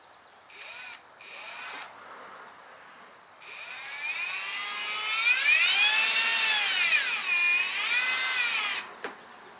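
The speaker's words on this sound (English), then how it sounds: "Those are all lugs that you can put studs in. I'm just going to do them on every other stud across there." A power drill drives studs into the lugs of a Snowdog snowmobile track, heard as two short bursts followed by a longer, steady whining run with rising and falling pitch, fairly close and with no talking.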